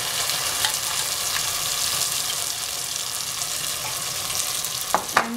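Pea paste frying in a pan, a steady broadband sizzle running evenly throughout, with a couple of brief stirring clinks near the end.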